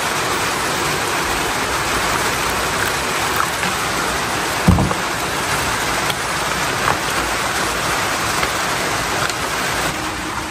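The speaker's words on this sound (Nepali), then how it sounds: "ओहो पानी त हुन लगाइसकेछ" Rain falls in a steady, even hiss that fills the scene from start to finish, with one brief thump partway through and no talking.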